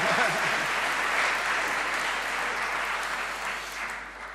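A graduation ceremony audience applauds and cheers together, a dense, steady wash of clapping filling the hall for several seconds before easing slightly.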